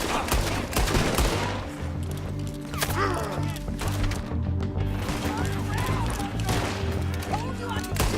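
Repeated gunshots ring out in a Western shootout in Red Dead Redemption 2, sharp cracks scattered across the scene over a low steady hum, with voices talking between shots.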